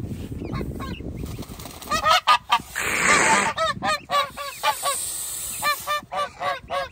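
A flock of geese, said to have walked about two kilometres to get here, honks outdoors in repeated loud, close calls, some overlapping in quick bursts, with no talking.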